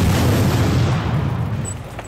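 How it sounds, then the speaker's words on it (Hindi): A weapons warehouse explosion rolls out as a deep, heavy boom with a sustained rumbling roar that slowly fades over a couple of seconds, loud and alone. "आईडीएफ के हमले में हथियारों के गोदाम में भयंकर धमाका हुआ"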